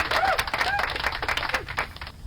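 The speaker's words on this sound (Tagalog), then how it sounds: "Ayan, pumalakpak naman huli nga lang" Scattered hand clapping from a small crowd at a Parañaque city event, brief and uneven, mixed with nearby voices and background bustle.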